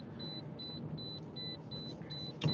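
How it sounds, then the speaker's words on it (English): Car warning chime beeping steadily in a regular on-off pattern, about seven short high tones over a low idling rumble, fairly quiet, with a thump at the end. "I'm sorry about that beeping"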